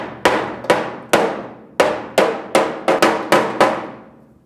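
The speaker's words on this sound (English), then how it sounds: "I'm just watching where each hammer hit pops it out" Nine sharp metallic hammer blows strike the body sheet metal of a GTO car at an uneven pace, each ringing briefly before fading, loud and close with no voices.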